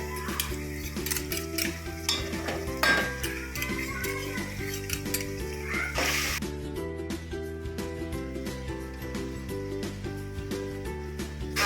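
Onion sautéing with green chilies and ginger-garlic paste in a pan for paneer matar pulao, a soft continuous sizzle with the scrape and clink of a spoon stirring against the metal, steady and close, over quiet background music.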